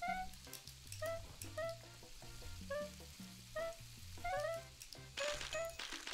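Steaks sizzle on a grill in the cooking game PlateUp!, a steady frying hiss beneath cheerful game music with repeated melodic chimes, holding at a moderate level throughout.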